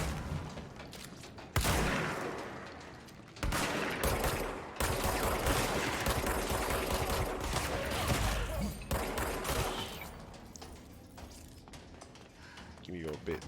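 Dense, loud gunfire in the Control video game, with bursts of rapid shots and mechanical clatter cutting in and out, then easing toward the end.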